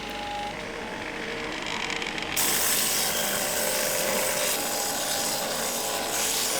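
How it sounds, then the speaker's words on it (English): Drum sander refining thin cut wood and plastic veneers, a continuous harsh abrasive rasp that grows louder and brighter partway through, steady and close with no talking. "I've decided to refine these by using the drum sander and see how that goes"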